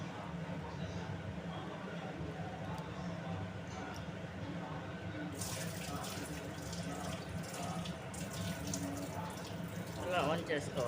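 Water running from a kitchen tap as rice is washed, a steady continuous rush at low level with faint splashing and clinks of the pot toward the end.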